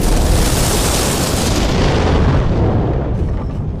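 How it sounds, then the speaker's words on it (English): A loud, sustained rumbling blast from a video game explosion set off by a button press, a dense roar that stays heavy throughout before easing slightly at the end, with no talk. "I created that explosion so that Cortex could be distracted."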